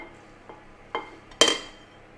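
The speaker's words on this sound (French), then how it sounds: "bien mélanger le tout" Milk, parmesan and salt being mixed in a dish, a few sharp clinks of utensil against the bowl, the last one loudest and ringing, in a quiet room.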